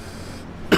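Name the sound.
cough into a microphone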